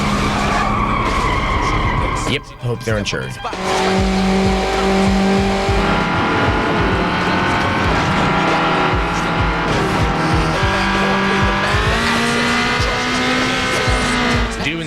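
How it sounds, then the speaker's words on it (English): Cars skidding in a drift race in the video game Need for Speed Underground, loud sustained tire squeals and revving engines with pitch glides, a brief crash-like burst early on, and someone speaking over it. "you can find yourself competing in what's called a drift race."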